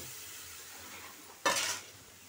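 Potatoes and sabudana frying in a pan, heard as a faint low sizzle broken by one sharp scraping stir partway through.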